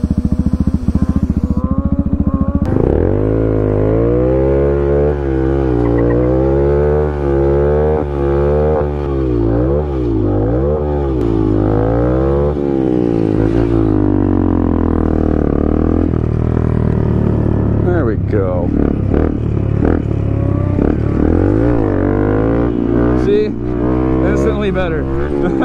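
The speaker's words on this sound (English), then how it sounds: "I gotta do a burnout." A Honda Grom motorcycle with a new rear tire does a burnout in a large open stunt lot. Its small engine roars loud and close, with a continuous drone whose pitch rises and falls as the throttle is worked.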